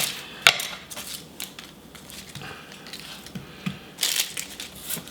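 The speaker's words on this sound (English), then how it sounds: "And so I'm just going to cut the top and the bottom off." A knife cuts the top and bottom off an onion on a board, giving a few sharp crunching chops and thuds spread unevenly over several seconds, close and clear with no talk.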